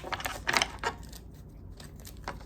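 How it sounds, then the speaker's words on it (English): Quick papery riffles and light clicks of tarot cards shuffled by hand, a few short bursts close by with quiet gaps between. "let me do one more shuffle"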